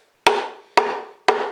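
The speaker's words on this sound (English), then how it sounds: "I just use the end of a hammer one side at a time, and it is tight." Hammer end tapping a tight cast iron axle part on an Explorer 8.8 rear end, three sharp metallic knocks evenly spaced about half a second apart, each ringing briefly before fading.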